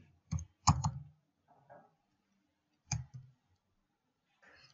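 Several sharp key clicks from a computer keyboard, a Control+Enter shortcut pressed to run code, come in short bursts separated by quiet gaps, close and fairly soft, with no talk.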